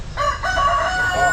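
A rooster crowing close and loud, one drawn-out harsh call with wavering pitch, over faint background noise.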